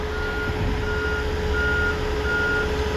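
An XCMG GR2205 motor grader, a 17-ton machine spreading a soil layer, gives four evenly spaced reversing beeps over a loud, steady engine rumble close by.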